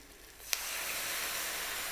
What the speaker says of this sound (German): Wir löschen jetzt mit Rotwein ab.